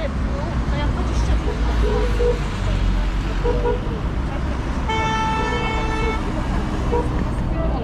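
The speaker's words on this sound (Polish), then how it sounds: "Wszyscy trąbią." Car horns honk in busy street traffic in Hurghada, with orange taxis all around, one long sustained toot standing out near the end over a constant roar of engines and road noise, with people talking nearby.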